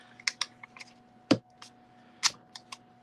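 Sticky tape being pulled and applied during a craft project: a few sharp crackling rips and snaps spaced out, with faint tapping between them, close and clear, no talking.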